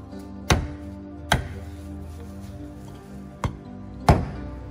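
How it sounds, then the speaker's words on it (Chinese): A steel cleaver chops braised pork trotters with four sharp, heavy thwacks spaced irregularly over a quiet market background, close and distinct. "剁猪钢刀"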